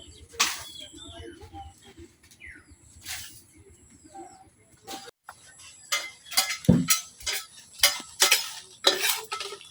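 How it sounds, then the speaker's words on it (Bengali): Dried red chilies frying in a pan, with intermittent clinks and scrapes of a stirring utensil, quiet at first and then quick and busy, over faint sizzling and a brief low voice early on. "এখন শুকনো মরিচগুলো ভাজা লিয়া।"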